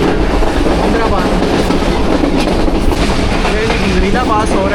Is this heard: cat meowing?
no